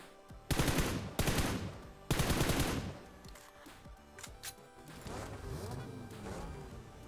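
Rapid bursts of automatic rifle fire from a teammate in PUBG, two loud sustained volleys close by, then quieter scattered game sounds and faint background noise.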